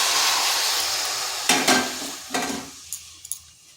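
Shredded cabbage hitting a hot wok for a vegetarian dish, a loud hissing sizzle that gradually settles, broken by several sharp metallic scrapes and clanks of stirring near the end.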